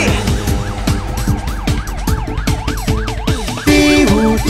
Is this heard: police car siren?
yes